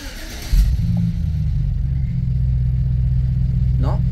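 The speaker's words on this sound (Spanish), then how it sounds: "Pero el motor se escucha muy bien." A Chevrolet pickup engine cranks and starts with a brief burst, then settles into a steady low idle rumble close by.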